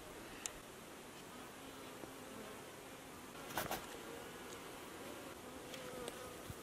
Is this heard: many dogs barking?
no